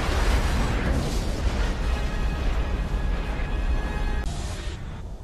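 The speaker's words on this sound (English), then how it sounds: "Prepare to fire torpedoes! Firing torpedoes!" A torpedo-firing explosion effect: a loud, deep, rumbling blast that roars continuously for several seconds, then cuts off abruptly near the end.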